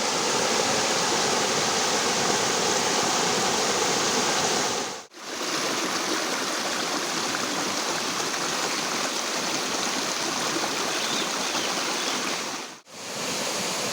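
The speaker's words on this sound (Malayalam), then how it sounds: "ചെറിയൊരു വെള്ളച്ചാട്ടം പോലെ ഉണ്ട് കേട്ടോ" A strong monsoon stream rushes over a small drop like a miniature waterfall into a check dam, producing a loud, steady, broadband roar of water, close and continuous with two brief cuts.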